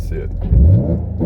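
Infiniti G35 coupe with a six-speed manual and aluminum driveshaft holding launch control at 2,500 RPM, a close, steady low engine drone that swells briefly midway, with a voice over it.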